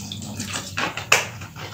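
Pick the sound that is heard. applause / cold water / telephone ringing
cold water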